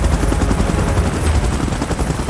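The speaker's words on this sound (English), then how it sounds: "Chopper in position." A helicopter in PUBG Mobile thunders up close, its dense rotor chop and engine roar loud and continuous with no voices.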